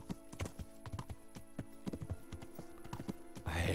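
Steady clip-clop of a horse's hooves while riding in Kingdom Come Deliverance, a quick even rhythm, close and moderately loud, with a whoosh of movement at the end.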